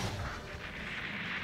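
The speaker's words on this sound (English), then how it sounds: "Oh, he saw that rocket." A rocket fires in the video game Gundam Online, a short, low, thumping blast with a rushing noisy tail, fairly quiet and heard alone.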